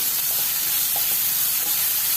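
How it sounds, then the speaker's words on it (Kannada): Onions frying in a pan for a spicy squid masala, a steady soft sizzle and hiss throughout with faint stirring scrapes, no voices. "ಕಲರ್ ಚೇಂಜ್ ಆಗುವವರೆಗೂ ಫ್ರೈ ಮಾಡಬೇಕು ಈರುಳ್ಳಿನೂ ಸಹ"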